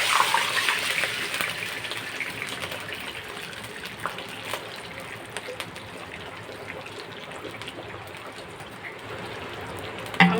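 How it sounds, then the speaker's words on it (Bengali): Water gushes and splashes from a bowl into rice for Bengali basanti pulao, a soft continuous pour with small splashes throughout and a louder burst at the very end. "দেখুন, এক বাটি আমি জল দিচ্ছি"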